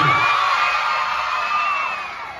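Campaign rally crowd for Mayor Vico Sotto in Pasig, shouting and cheering loudly and continuously, a dense wash of voices with whoops rising above it throughout.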